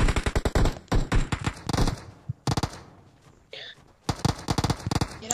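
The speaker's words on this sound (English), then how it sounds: "There's somebody shooting at me right now!" Rapid automatic gunfire in PUBG Mobile crackles in loud, close bursts with brief pauses between volleys, sharp and dense throughout.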